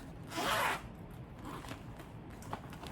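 Zipper on a thick plastic travel toiletry bag pulled once in a short, close rasp, followed by faint rustling and handling of the plastic.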